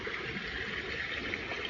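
Flowing river water on a lansones farm in Batangas, a steady rushing wash that stays even and continuous, close by with no talking.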